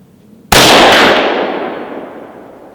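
A single loud rifle shot from Black Hills 77 grain OTM factory-seconds ammunition cracks sharply and close, then rolls off in a long fading echo over about two seconds, with no talking.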